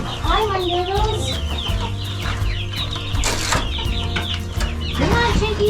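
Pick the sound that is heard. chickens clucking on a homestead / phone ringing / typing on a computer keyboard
chickens clucking on a homestead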